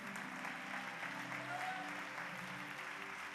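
Church congregation applauding together in praise during a worship service, a dense, even wash of clapping that carries steadily at moderate distance throughout.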